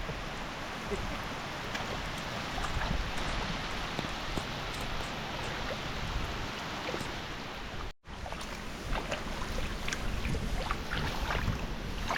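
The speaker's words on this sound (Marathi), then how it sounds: "आणि पाऊस पण आलेला आहे" Steady rain falls on a farm field, a close, even hiss of drops that runs unbroken apart from a brief dropout, with no talk.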